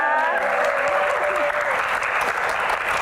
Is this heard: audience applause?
yes